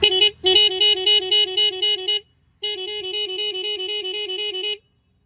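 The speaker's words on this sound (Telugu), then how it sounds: "మెలోడీ హార్న్స్ అయితే వేశారు" A loud electronic melody horn on a Hero Splendor Plus motorcycle plays a bright, repeating musical tune, cuts off briefly, then resumes for a couple more seconds before stopping.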